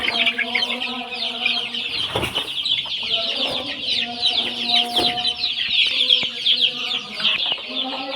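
Spotted chickens clucking in a coop, a dense continuous chorus of close, loud clucks and squawks with brief wing flaps and scuffling throughout.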